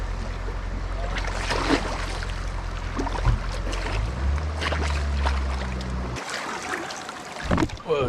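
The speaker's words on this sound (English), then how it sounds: "Let's take the dip to shower ourselves." A person bathes in a fresh mountain stream in Venezuela, splashing steadily in rushing water for several seconds, followed by a few close, louder splashes near the end.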